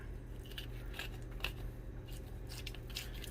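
A knife scrapes and clicks along the spine bones of a fish during filleting, with several brief crunchy snips at close range over a steady low background hum.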